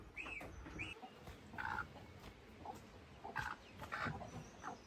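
A free-range farm hen clucks in short, separate bursts near a newly hatched chick, with soft rustling and faint peeping between the calls, no talking.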